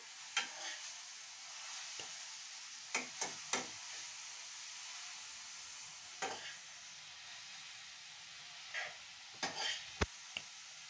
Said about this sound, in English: So now stir it a little bit, but don't overcook it.